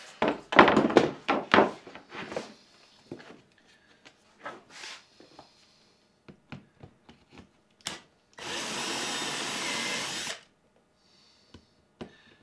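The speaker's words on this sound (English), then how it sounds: "so I do need to drill these secondary holes also." Scattered wooden knocks and thunks give way to a steady two-second whir of a power drill boring holes into a wooden cabinet door, followed by a few light taps.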